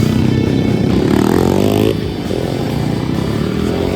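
Flat track racing motorcycles at practice thunder past close by, one loud engine revving high and then dropping off after about two seconds as another picks up, with continuous roar and no talk.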